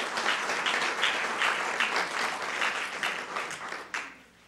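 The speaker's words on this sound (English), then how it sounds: "I want to give a big applause to Diana and Jean for all the work that they've done" An audience at a panel presentation applauds two people, a full round of dense clapping that stays even for several seconds before thinning and fading, fairly near and without speech.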